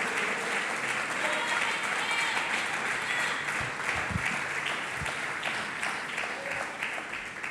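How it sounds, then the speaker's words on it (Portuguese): A church audience breaks into sustained applause, a dense wash of many hands clapping with some scattered voices mixed in, filling the room steadily for several seconds before easing slightly. "Pode aplaudir a Jesus."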